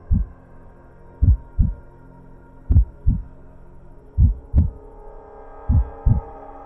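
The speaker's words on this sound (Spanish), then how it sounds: "Es el latido de este horrendo corazón" A heavy heartbeat pounds in paired, evenly spaced thuds, deep and close, repeating about four times over a low steady hum in a Spanish-language audio drama.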